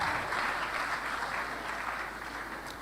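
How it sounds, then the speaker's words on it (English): An audience at a medical graduands' induction ceremony at Nnamdi Azikiwe University claps in a continuous, fairly distant wash of applause that fades slightly toward the end. "You have to clap very well for Nnamdi Azikiwe University."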